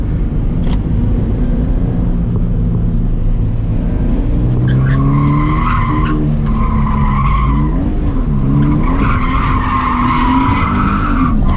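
Scion FRS sliding sideways at drift school, tires squealing in long wavering howls over a loud, continuous engine roar, the screech rising and bending in pitch as the car swings through its slides.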